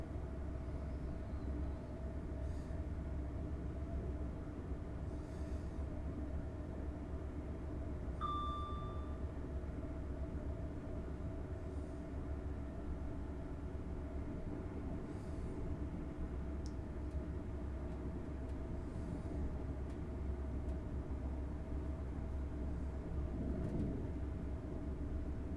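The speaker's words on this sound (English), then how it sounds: "I'm going to start slowing the train down" Class 802 train running in Train Simulator, a low steady rumble and drone of the train under way, faint and unbroken throughout, with occasional small clicks and a brief tone.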